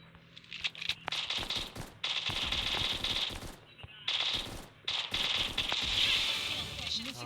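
Rapid automatic XM8 rifle fire in a shooter video game, several sustained bursts with brief pauses, loud and close, with game voices and chatter mixed in between bursts.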